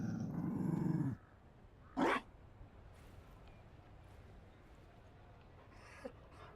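A Mabari war dog in Dragon Age Inquisition gives a loud, close growl lasting about a second, then a short sharp bark-like burst, before a quieter stretch of soft game ambience with a faint click near the end.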